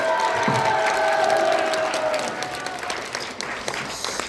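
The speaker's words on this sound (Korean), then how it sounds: "큰 박수를 보내주시기 바랍니다" Audience applause at a press conference held by a YouTuber association, a full burst of clapping with some cheering that starts strong, then thins and fades toward the end.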